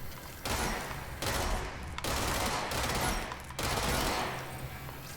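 Heavy gunfire in the action video game Control: loud, dense bursts of shooting in several sustained volleys separated by brief gaps, with no voices over it.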